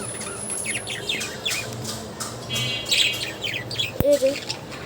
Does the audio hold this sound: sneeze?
no